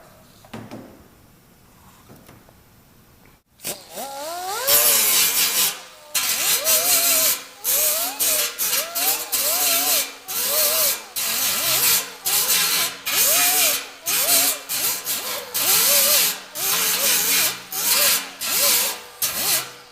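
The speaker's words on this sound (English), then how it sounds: "So keep the grinder moving around." A grinder works car body metal at stud weld spots in dent repair, rhythmic rasping passes that rise and fall in pitch, loud and close, repeated over and over after a quiet start.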